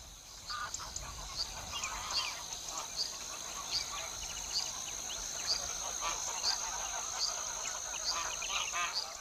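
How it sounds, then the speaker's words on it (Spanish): Wild geese, the ancestors of domestic geese, honk and call steadily during mating season. The many overlapping calls of the flock sound fairly distant, over a constant outdoor hiss. "Estos gansos son los ancestros de nuestros gansos domésticos. Machos y hembras poseen el mismo plumaje y aquí se aparean."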